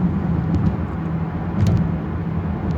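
A Mercedes-AMG GLC 43 Coupe being driven gives a steady, low, even engine and exhaust drone, subdued and unobtrusive inside the car, with no revving or pops.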